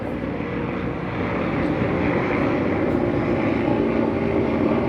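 A steady, continuous drone of a propeller airplane engine, loud and unbroken throughout, with no voices.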